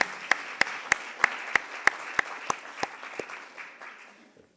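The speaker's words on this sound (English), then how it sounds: "Let's have a round of applause for these wonderful women." Applause at a panel session on women's empowerment and environmental sustainability as panelists join the stage, heard as a few loud, evenly spaced claps over a softer crowd clapping that gradually fades.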